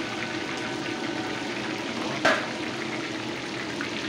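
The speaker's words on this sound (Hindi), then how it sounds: "सरसों के अंदर ये मछली फ्राई हो रही है" Fish frying in mustard oil gives a steady, close crackling sizzle that runs throughout, broken by one brief clatter about halfway through.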